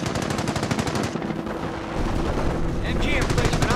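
Machine gun fire in the Company of Heroes video game, a World War II strategy game. Fast, steady bursts of rapid shots play throughout with battlefield noise, and game voices call out faintly in the mix.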